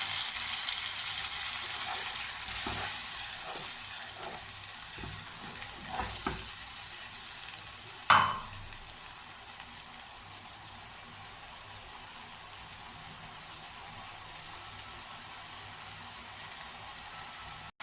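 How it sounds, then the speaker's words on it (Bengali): Cumin, ginger and chilli fry in oil for a rohu fish curry, a soft continuous sizzle near the pan with stirring scrapes early on and one sharper clatter midway, no voices. "জিরেটা একটু ভাজা হয়ে গেলে এর মধ্যে দিয়ে দিলাম জিরে, আদা আর লঙ্কা"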